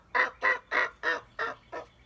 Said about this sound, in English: make sure you're going a little bit just quiet yelps and maybe some little clucking purrs